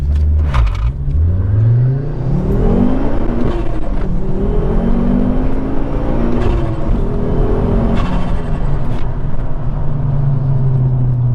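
A four-wheel-drive Ford Focus ST engine revs hard and climbs through the gears, rising whine dropping at each shift, loud and close throughout.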